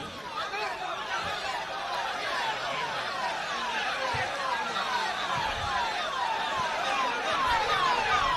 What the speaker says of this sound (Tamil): கொஞ்சம் ஒரு ஆம்புலன்ஸ் வருது.